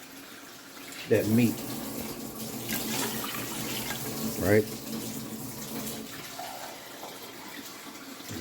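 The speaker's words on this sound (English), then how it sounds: "I'm going to bring this water up till it covers over" Tap water runs steadily into a pot to cover pork pigtails for sauerkraut and pigtails, a continuous rushing hiss beneath a person talking throughout.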